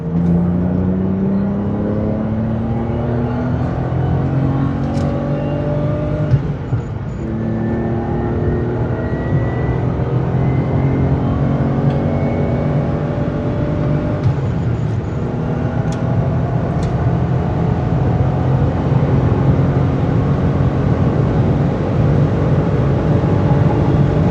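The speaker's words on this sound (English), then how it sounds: "All right, we gotta do at least one high-speed run. Let's see what this mighty engine can do." A V12 BMW E31 850i accelerates hard on a high-speed run, heard from inside the car, its engine note climbing steadily through the gears with a loud, continuous rising drone and tire and wind noise beneath.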